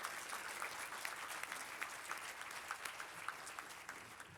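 Steady applause from a civic event audience honoring a city television crew, many hands clapping in a dense, even patter that holds for several seconds, moderately distant and with no talk over it.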